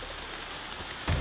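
Steady hiss of falling rain, fairly even throughout, with a brief louder splash of noise right at the end.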